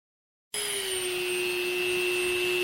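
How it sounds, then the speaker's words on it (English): A Dremel rotary tool with an abrasive wheel starts abruptly and then holds a steady, high-pitched whine while it cuts a slot in a clip, close and continuous. "Use a Dremel tool with an abrasive wheel, and you can carefully cut that slot out"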